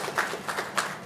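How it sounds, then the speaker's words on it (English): Audience applause at a university workshop inauguration, a brief spell of scattered hand claps in a hall, moderately loud, with no voices over it. "let's give a big clap, please."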